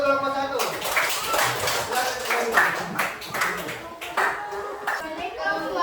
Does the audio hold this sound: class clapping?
yes